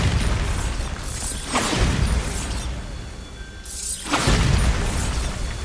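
A Bombarda spell blast in the Hogwarts Legacy video game, with three loud booming explosions about two seconds apart, each a sharp burst trailing into rumble, heard alone with no talk.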